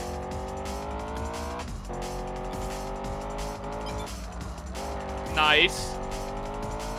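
Race-game car drifting in Test Drive Unlimited on PS2, engine droning steadily near with a brief loud tire squeal late on, while a person speaks briefly.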